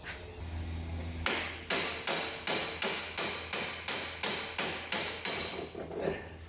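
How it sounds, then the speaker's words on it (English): About a dozen sharp metallic hammer strikes on a Dodge Nitro's lower strut mount ring out in a steady, regular rhythm, each hit close and bright with a short ringing decay. "you strike the bottom mount here with a hammer"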